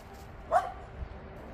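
A dog gives one short, sharp bark at mid distance, followed by a faint low grumble against a quiet background.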